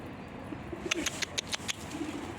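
Pigeons coo softly near a coop, a handful of low murmuring calls over a quiet outdoor background, joined by a brief cluster of sharp chirps and light flutter in the middle.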